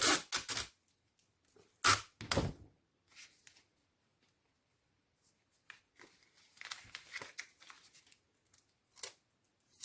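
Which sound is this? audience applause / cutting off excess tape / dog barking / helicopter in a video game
cutting off excess tape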